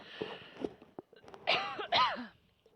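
A few short coughs and throat-clearing sounds, close by, with brief pauses between them.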